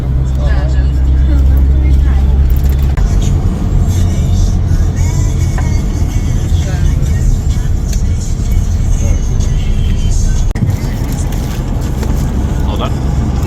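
Road traffic on a drive in Russia, cars passing with a steady low engine and tyre rumble throughout, heard from inside a moving vehicle while people talk over it.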